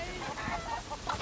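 Chickens cluck in quick, bright bursts over a dense, noisy crowd background during a chicken fight in the Sleeping Dogs video game.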